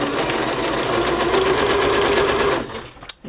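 A sewing machine runs steadily at close range, its rapid needle stitching forming a continuous mechanical whir that stops abruptly near the end.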